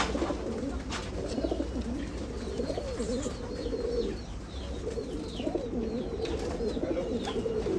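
Old Gauran pigeons in a Nashik loft cooing repeatedly in low, throaty, rolling calls, with faint chirps and background noise throughout.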